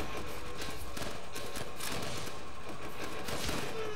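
Gunfire rattles in the Call of Duty: World at War video game, with dense bursts of rifle and machine-gun shots over a constant battle din, loud and continuous with no break.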